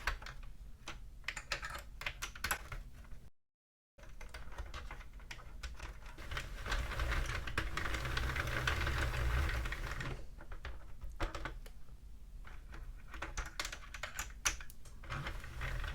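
A Sentro or Addi circular knitting machine cranked to knit back a row of a summer cardigan, giving a steady clattering, rapid plastic rattle with a brief pause early on and no talking.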